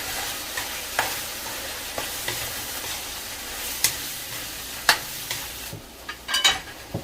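Annatto powder being stirred into beef tongue estofado in a pan, a steady soft sizzle broken by scattered scraping clinks of the utensil, close and moderately loud with no talk.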